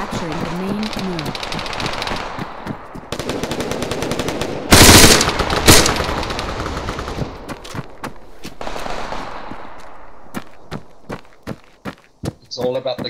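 M4 rifle gunfire in the game Argo, rapid bursts of close sharp shots in clustered rattling strings with one loud heavy blast midway, mixed with game voice announcements and talking.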